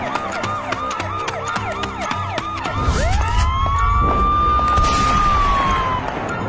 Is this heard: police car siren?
yes